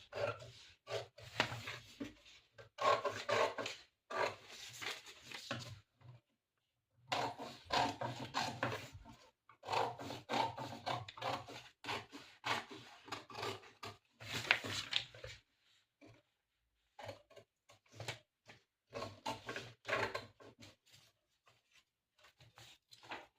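Scissors cut through a paper pattern piece for a size 32 katori blouse, close and crisp, in repeated bursts of snipping and rustling separated by short pauses.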